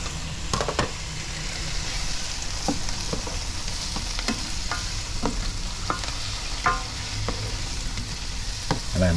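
Tomatoes and hot pepper sizzle steadily in a hot pot of Guyanese saltfish stew, a continuous fry with scattered stirring clinks and scrapes throughout, close and alone with no talk.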